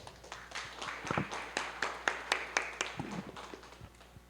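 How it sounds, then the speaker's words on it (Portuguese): Scattered clapping from a small group at a Brazilian municipal council ordinary session, irregular sharp claps building briefly and then thinning out, moderately close with no voices over it. "Vamos dar uma salva de palmas"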